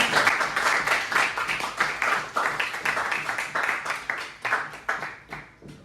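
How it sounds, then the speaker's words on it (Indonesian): Students in a classroom applaud after a group presentation, a lively burst of many hands clapping with uneven overlapping claps that gradually thin out and fade toward the end. "Oke, tepuk tangan ya."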